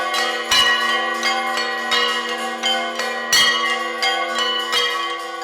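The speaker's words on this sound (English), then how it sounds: "the temples were silent with just the sound of bells and prayers were to be heard" Temple bells ring during festival prayers: a steady series of bright, resonant metallic strikes about once a second, each with a long ringing sustain that overlaps the next, with no voices.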